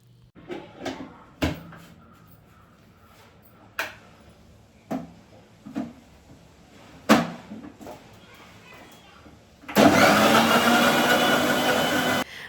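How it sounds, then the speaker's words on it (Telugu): A kitchen mixer grinder blends beetroot, carrot and ginger with a little water; a few knocks and clatters come first, then the motor bursts into a loud, steady, close whirring roar that runs to the end. "కొన్ని వాటర్ యాడ్ చేసి ఫస్ట్ కొంచెం మిక్సీ పట్టుకోవాలి"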